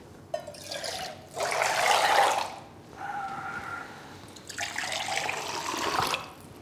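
Water poured back and forth between two cups while practising teh tarik, the Malaysian pulled tea: bursts of splashing, streaming liquid in separate pours with short pauses between, close and fairly loud, with no talk.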